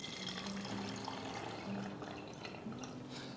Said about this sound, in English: Now I can pour this beef stock or broth into my